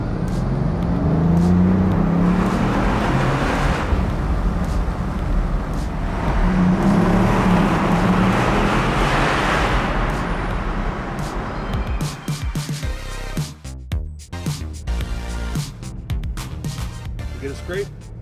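A Bugatti supercar drives through a tunnel, its engine and road noise forming a loud, steady roar that swells and fades, with people talking over it toward the end.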